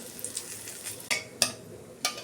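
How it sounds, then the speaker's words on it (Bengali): Cumin, bay leaves and a dried red chili frying in hot oil in a kadai for a home-style chicken curry, giving a quiet steady sizzle with a few sharp clinks of a spatula against the pan. "ফোড়নটা আমার ভাজা হয়ে গেছে"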